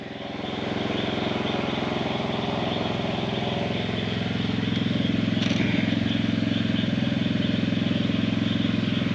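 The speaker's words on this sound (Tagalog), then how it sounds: "Maingay idol, mayroong maandar na makina. Doon papatubig doon sa taas." A water pump's engine runs continuously with a steady low rumble and buzzing drone, loud and close, unchanging throughout.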